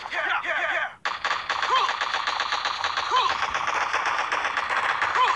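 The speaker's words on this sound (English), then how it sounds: "Ah, hate that machine gun." Rapid machine gun fire from the mobile strategy game Boom Beach, a steady rattling burst running nearly continuously after a brief gap, with game effects and a voice talking over it.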